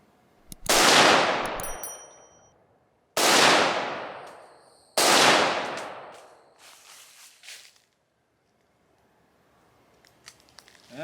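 Three loud, sharp rifle shots from a Sig Sauer 556 Classic SWAT fired outdoors, each followed by a long decaying echo, then quiet with faint small clicks.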